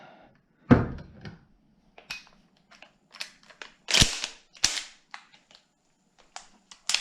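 A Mossberg 590 shotgun is dry fired and its action worked, giving a series of sharp metallic clicks and clacks at close range, separated by near silence.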